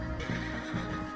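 A horse neighs in a short, bright whinny in the video game Red Dead Redemption 2, fairly close and loud, with a brief second call at the end.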